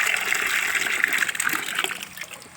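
Water gushes and splashes steadily while being poured out for a thirsty animal to drink, a close, continuous pour with small trickling splatters toward the end.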